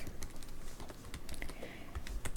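Computer keyboard typing during an HTML coding lesson, a quiet steady run of close clicking keystrokes with no voice.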